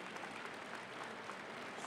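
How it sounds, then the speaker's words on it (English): Sustained applause from a commencement audience, steady dense clapping throughout at moderate distance with no speech on top. "give them a big round of applause"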